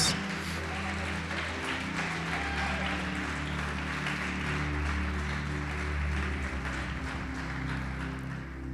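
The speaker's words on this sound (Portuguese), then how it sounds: "Pode aplaudir e glorificar Jesus." A church congregation applauds steadily for several seconds, a broad, even wash of clapping over a sustained low hum of instruments or amplification.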